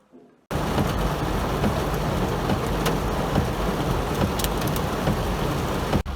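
Heavy rain pours down steadily in a storm, a dense loud hiss with low thunder rumbling underneath and a few sharp crackles, starting abruptly after a moment of quiet.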